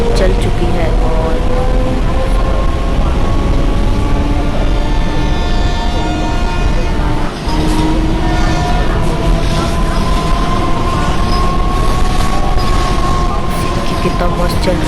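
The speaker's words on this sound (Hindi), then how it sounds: "हमारी ट्रेन चल चुकी है" A train in an Indian train-driving 3D video game runs along with a loud, continuous rumble and a steady tonal engine whine that rises and shifts slightly throughout.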